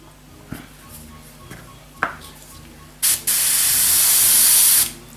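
Airbrush paint spraying beneath a 7mm Heljan VAA model wagon during weathering: a few soft clicks and taps, then a steady, loud hiss lasting nearly two seconds before cutting off.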